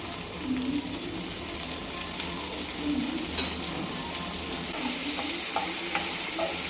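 Vegetables with salt are stirred and fried in a pan, giving a soft steady sizzle broken by repeated spoon scrapes at an even pace, fairly quiet and close, with no talking.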